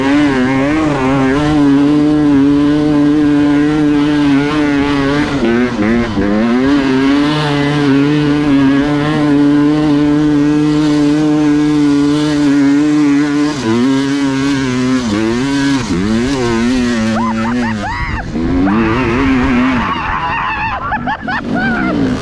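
Off-road motorcycle engine revving hard on an OHV trail at Peach Valley, loud and close throughout, with the pitch climbing and dropping through gear changes and throttle blips.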